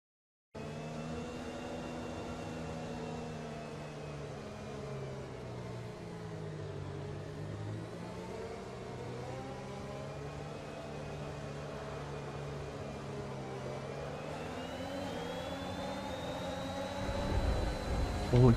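Racing cars in an F1 video game at Zandvoort drone steadily through a safety car restart, engine pitches rising and falling over a continuous loud hum, with a louder burst near the end.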